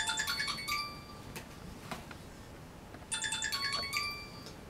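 Mobile phone ringtone from a mother calling, a bright repeating electronic melody that plays for about a second, pauses, then resumes in a second burst, fairly close and clear with no voices.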